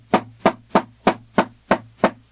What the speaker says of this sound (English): Paradiddles are a single stroke in the right, a single stroke in the left, and then double in the right.